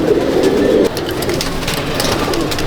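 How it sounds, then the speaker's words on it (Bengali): Pigeons coo at a champion racing loft in Mominpur, a loud, close, throaty cooing that swells strongly at first, then settles into a steadier murmur of birds with no talk. "এই পায়রা আমার প্রাণের পায়রা।"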